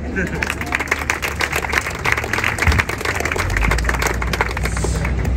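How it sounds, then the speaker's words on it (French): Audience applause at a French NUPES campaign launch rally for the 9th constituency, a dense continuous patter of many hands clapping in a hall, steady and fairly loud, swelling slightly toward the end. "vous pouvez vous applaudir"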